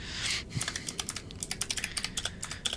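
Rapid clicky computer keyboard typing, close and fairly quiet, with a steady run of sharp key clicks in an uneven rhythm and no talk, heard in a chilly flat during a gaming session.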